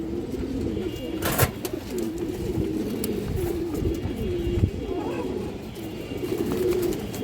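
An Iranian pigeon coos in repeated low, throaty phrases close by, over a steady background hum, with a faint sharp noise near the start.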